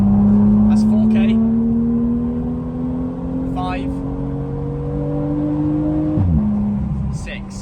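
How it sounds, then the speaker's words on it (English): A BMW M2 engine holds a loud, steady high-RPM drone that climbs slowly in pitch and then drops sharply near the end as the revs fall, with brief faint sounds over it. "we'll rev this car out so you guys can hear this thing in the high RPMs"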